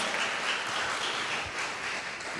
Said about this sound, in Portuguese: Vamos dar um lindo aplauso para isso